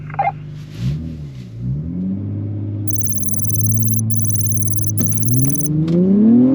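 Two cars, a 2021 Acura TLX Type S and a Kia K5 GT, race from a standing start. Their engines rev and rise in pitch through several gear changes, loud and close, with a high electronic whine above them.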